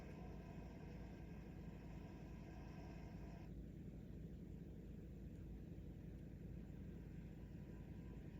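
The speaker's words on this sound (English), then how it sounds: "You can hear that car screaming down the backstretch." Race car engines in the NR2002 racing game roar steadily at high RPM down the Daytona backstretch, a constant dense drone whose upper whine cuts out partway through, leaving a lower rumble.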